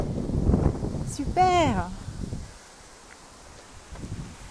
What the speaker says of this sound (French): Alors il y a du vent.